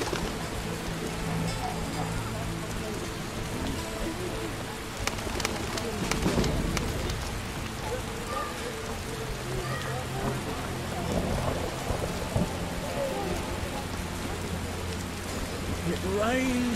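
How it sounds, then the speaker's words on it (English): In The Witcher video game, steady rain hisses throughout, with a deep rumble of thunder rolling in partway through and a few faint bird calls. "It rains and it pours."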